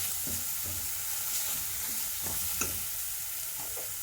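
Chili powder being stirred into cabbage and green peas frying in a pan for an Odia-style matar masala curry, a steady soft sizzle with scattered scraping stir strokes throughout, no talking.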